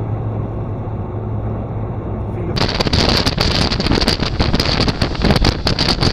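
A small boat's motor running on the water, first a steady low hum, then a louder buffeting churn mixed with wind gusts against the microphone, close and continuous.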